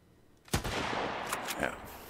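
Gunfire in the Sunkenland survival game: a couple of sharp, loud shots crack in quick succession, each trailing into a short echoing decay.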